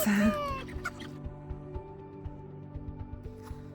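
Chickens cluck on a farm that also keeps horses, turkeys and cows. A louder call comes first, then steady, fairly close clucking continues with soft knocks underneath.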